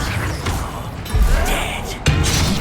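An Incendio fire spell cast during combat in Hogwarts Legacy, heard as a loud burst of crackling, whooshing game effects with heavy thuds at the start and again near the end, dense and close throughout.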